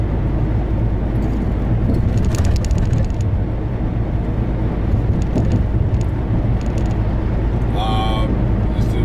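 A Dutch truck pulls away from a roadside store parking lot, a loud steady engine drone filling the scene with a brief higher whine near the end, voices faintly beneath.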